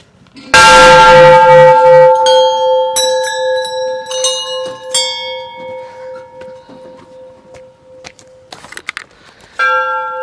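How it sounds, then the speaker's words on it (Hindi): Temple bells ring loudly at Muktinath Temple in Mustang, Nepal: a strong first strike rings out and decays, followed by a string of further clangs and bright overlapping tones. "बस ओ मंदिर के घंटियों की आवाज़ आ रही है।"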